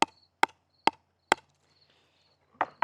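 Four sharp, evenly spaced pops of a ball struck on a 16 mm Joola 3S pickleball paddle ring out close and loud, followed by a rougher double hit at the end, with quiet gaps between strikes.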